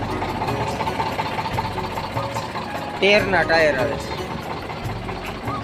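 An old Eicher 368 tractor with a Ricardo engine idling with a steady, rapid diesel clatter. Someone talks close by over the running engine.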